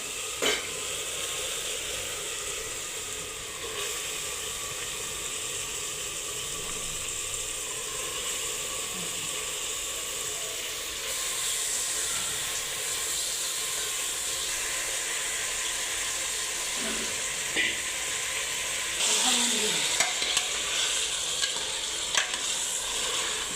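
Goat mutton hits a hot pan of fried masala and sizzles loudly. A continuous hiss and crackle runs under the occasional scrape of a stirring spoon.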